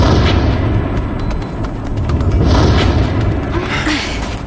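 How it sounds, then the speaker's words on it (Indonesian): A tower explodes in the animated series Code Lyoko, heard as a loud, sustained rumbling boom with crackling debris-like noise, filling the whole stretch without any speech. "menaranya akan meledak."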